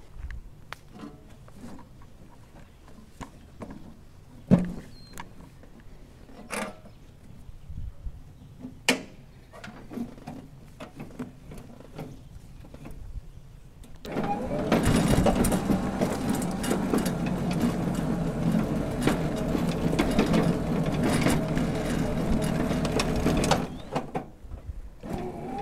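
A homemade electric lawn tractor, battery powered with a new seat and some broken welds, rolls off at about the halfway point. A steady, fairly loud mechanical whirr and rattle carries on for roughly ten seconds after quieter clicks and knocks.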